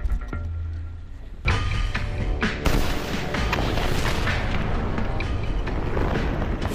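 Slow-motion playback of a small hobby rocket exploding: a sudden deep boom followed by a second burst and a long rumbling, crackling roar, loud and close.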